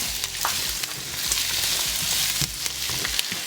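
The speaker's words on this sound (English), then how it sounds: "onion and we saute it about 1 or 2 minutes." Chopped onion with garlic sautéing in an Instant Pot for chole masala, a steady close sizzle with occasional stirring scrapes, no talking.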